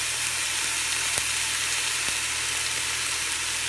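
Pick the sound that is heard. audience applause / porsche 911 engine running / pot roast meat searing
pot roast meat searing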